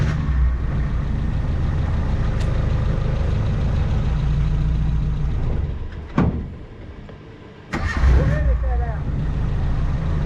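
Suzuki Samurai engine idling steadily at close range, a low continuous rumble with brief gaps and a couple of sharp knocks, while people talk over it.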